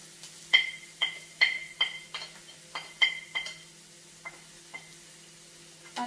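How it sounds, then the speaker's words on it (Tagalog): Garlic and ginger being sautéed in a pan for a salmon and white bean dish, with a steady soft sizzle under a rhythmic series of sharp metallic clinks from stirring utensils that slow and fade toward the end. "Ayan, nagigisa na siya."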